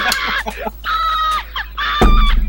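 A voice imitates Snively's scream from Sonic the Hedgehog with a shrill, squawking shriek in broken bursts, close and loud, under a low hum.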